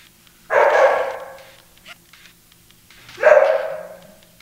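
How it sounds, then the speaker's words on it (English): Peter Puppy, a dog character in the Genesis video game Earthworm Jim, gives two sharp barks about three seconds apart, loud and close against a quiet game background. "Yep, it's Peter Puppy"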